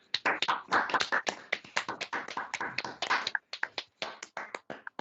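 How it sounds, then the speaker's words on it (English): A small group clapping together after an exercise session, a dense patter of hand claps for several seconds that thins out toward the end, close and lively. "give yourself a clap."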